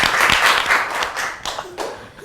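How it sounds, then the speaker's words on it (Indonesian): Audience applause breaks out on an Indonesian talk show, a dense crowd of hands clapping steadily for a couple of seconds at a fairly loud level, fading slightly toward the end. "Tepuk tangan dulu."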